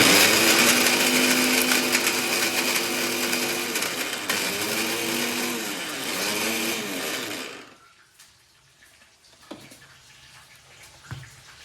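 A kitchen mixer grinder grinds fried spices to a fine powder for North Karnataka-style stuffed brinjal. It gives a loud, steady whir that wavers slightly in pitch, then stops abruptly after about eight seconds, leaving faint clinks and rustles.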